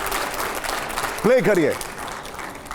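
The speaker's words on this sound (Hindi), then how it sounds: "तालियां थोड़ी कम आ रही है, जोरदार तालियां।" An audience at a political panel show keeps up a continuous round of applause, dense and fairly loud, while someone speaks briefly over it midway.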